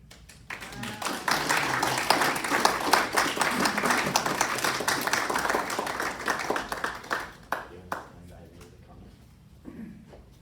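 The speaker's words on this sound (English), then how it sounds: "let's give them another round of applause" Steady audience applause after a reading swells for several seconds and fades, with a few scattered claps trailing off at the end.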